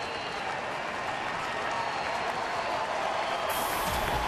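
Baseball stadium crowd at an Orioles at Tigers game applauding steadily, a dense, continuous wash of clapping and crowd noise throughout, swelling slightly toward the end.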